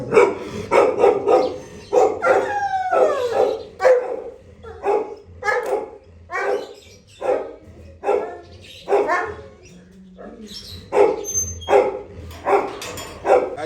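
A dog barks repeatedly and close up, a long series of sharp, evenly spaced barks with a few whiny yelps between them.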